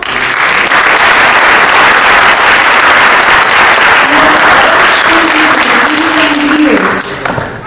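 An audience at a Heartfulness book launch event with music and meditation applauds the volunteers, sustained loud clapping that fills the whole stretch, with some voices and a faint tone rising near the end.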